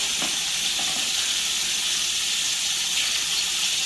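Steak sizzling steadily in a hot pan, a continuous bright hiss with a few faint pops, close and fairly loud with no talking.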